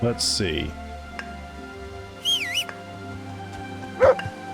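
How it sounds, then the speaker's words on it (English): A dog in the video game Kingdom Come: Deliverance gives a few short, scattered barks and yelps over quiet ambience, with a brief line of talk between them. "That's a dog."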